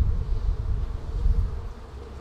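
Honey bees hum steadily inside a hive, a close, dense, continuous buzzing that swells and dips slightly, with no voices.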